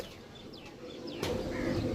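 Soft pigeon cooing mixed with faint chirps over a low background rumble, growing slightly louder toward the end.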